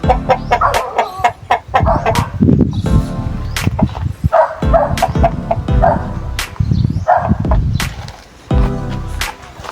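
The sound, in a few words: chickens clucking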